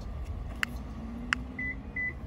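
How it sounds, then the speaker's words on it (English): A universal Toyota-style wired car remote being programmed gives two short electronic chirps about a second apart, followed by two softer tones, over a steady low background hum. "so you guys heard that beep"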